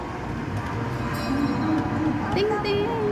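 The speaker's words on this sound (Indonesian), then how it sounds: "kita lagi naik kereta api nih" A train ride heard from inside a passenger carriage, with a continuous loud rumble and rattling, a couple of rising tonal squeals or whistles near the end, and voices faintly present in the mix.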